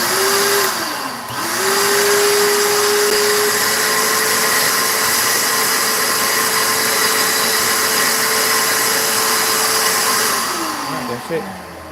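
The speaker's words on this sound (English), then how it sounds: "we gotta get the vacuum cleaner" A vacuum cleaner sucking up broken glass from an exploded mercury lamp: a loud, close, steady motor whine that dips briefly near the start, holds evenly, then drops in pitch as it winds down, with faint rattles of debris.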